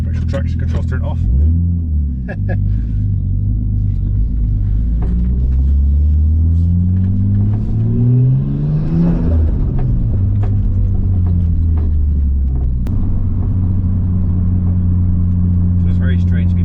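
A Nissan S13 with an SR20 engine idling close by, then revving up and dropping back in a rising and falling sweep of engine tone, with a low steady rumble before and after.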